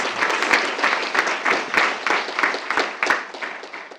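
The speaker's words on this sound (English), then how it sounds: "So a round of applause for all of those amazing contributions." Audience at a school board meeting applauding student award winners, a dense, even burst of many hands clapping close by for about four seconds.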